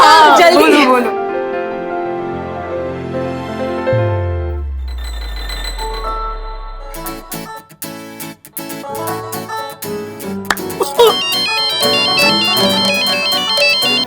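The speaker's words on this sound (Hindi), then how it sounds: "मैं राज को फोन करके बुला लेती हूँ" Mobile phone ringtone on an outgoing call, set in a Hindi TV sitcom scene: a bright melodic tune that plays for several seconds, mixed with background music and other sounds.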